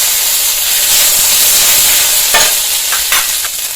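Mustard seed, fenugreek, radhuni and ginger paste tempering sizzling in hot oil for a lentil dish: loud, dense, continuous hiss and spatter, close up, with a couple of brief ladle scrapes near the end.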